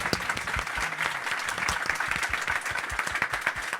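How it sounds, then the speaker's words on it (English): Conference audience at an aniridia conference closing ceremony breaking into applause, sustained lively clapping with distinct sharp claps standing out throughout, no voices over it. "you definitely deserve a round of applause"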